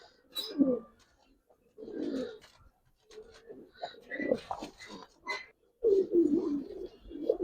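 Giribaz pigeons, a female among them, cooing in bursts of low throaty calls, several separate coos spread across the stretch with quiet gaps between.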